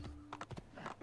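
Horse hooves clip-clopping in Assassin's Creed 2, a quick run of a few sharp hoof strikes close up, loud over a steady low game hum.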